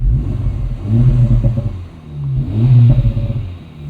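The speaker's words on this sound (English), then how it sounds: "And you can hear there, we get some pops and burbles." 2024 Acura Integra Type S in Sport Plus with its exhaust valve open, the engine rising and falling through two revving swells with crackly burbles layered over a loud, close mid-range drone.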